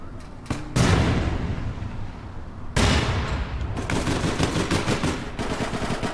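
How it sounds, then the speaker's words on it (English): Gunfire and a grenade blast in the online shooter APB Reloaded: sharp loud bursts, then rapid repeated shots in quick succession that continue through the clip, with sudden loud onsets near the start and midway. "Grenade incoming."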